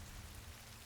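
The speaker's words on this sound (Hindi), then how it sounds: "अरे नहीं, ये तो फिर से बारिश शुरू हो गई।" Steady broadband rain hiss in a cartoon scene of a one-room house whose walls and thatched roof were damaged by a storm, continuous and fairly close with a low rumble underneath, no voices.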